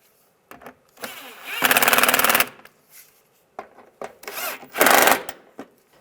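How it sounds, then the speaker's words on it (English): Bolts being run down with a power tool on a panel of a 1999-2005 Volkswagen Jetta during alternator replacement: two loud, close buzzing bursts of under a second each, separated by quieter handling noises. "Get the bolts started. And tighten these down."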